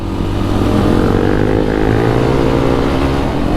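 A Polaris Outlaw 525 IRS ATV engine drones loud and close while being ridden, a steady, smooth rumbling note that holds and rises slightly without breaks.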